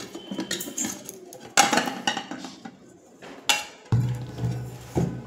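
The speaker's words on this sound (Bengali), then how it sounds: "এবার একটা ছুরির সাইডগুলো একটু ছাড়িয়ে নেব।" A knife runs around the sides of a freshly baked, partly cooled eggless milk cake in a metal tin, giving scattered metallic clinks and scrapes, with a sharper knock near the middle and a low clatter toward the end.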